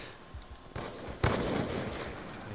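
Gunfire in Call of Duty Black Ops 2 on the Standoff map in a Domination match, a burst of rapid shots and a loud crack, moderately close, with no talk.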